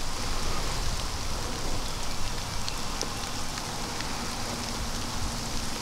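Steady rain falls outdoors during a Georgia turkey hunt, a dense, even hiss of drops pattering on surfaces close by, continuous and unbroken for the whole stretch with no voices.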